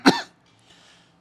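One sharp, close cough from a person with an itchy throat and a cold, followed by quiet.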